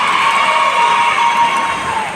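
Audience applauding and cheering for women on stage at a school event, a dense, loud, sustained roar of clapping and shouts that fades slightly toward the end.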